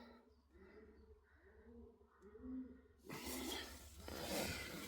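A pigeon coos in soft repeated phrases on a cattle farm, faint and fairly close, before a burst of louder rustling noise takes over.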